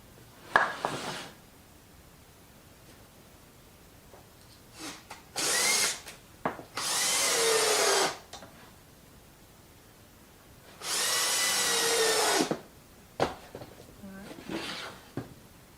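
A power drill drives screws into 2x4 lumber while a wooden Christmas tree is built. It comes in short whirring bursts, two of them longer and louder, with quiet handling knocks and pauses in between.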